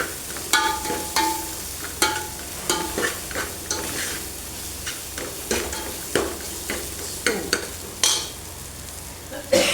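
Malai (cream) sizzling as it melts in a pan for pumpkin sabzi, with a steady frying hiss and repeated scraping stirs of a spoon throughout, close and moderately loud, no talking.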